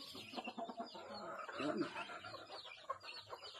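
Chickens cluck and peck close by while being fed ripe bananas after a harvest, soft irregular clucks in short bursts with brief overlapping calls.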